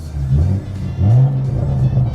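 A BMW N55 engine in a car with automatic transmission hums at low pitch and surges twice under a light, sensitive throttle, close and moderately loud.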